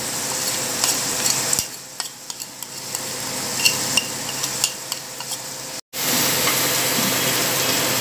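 A masala of salt, turmeric, cumin, coriander and Kashmiri chilli powder sizzles in a pan for Bengali chicken kosha, with repeated stirring scrapes over a constant close fry and a brief dropout near the end.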